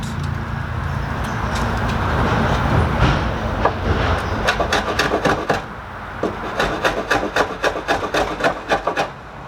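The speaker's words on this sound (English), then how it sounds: "The key to planing end grain is light cuts and a lot of patience." Hand plane taking light cuts across wood end grain, a close rasping shave that breaks into a run of quick, rhythmic strokes toward the end.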